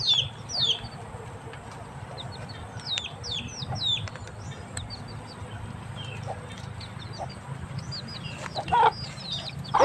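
Chickens cluck and chirp in short repeated bursts over a steady low background hum, with a louder squawk near the end.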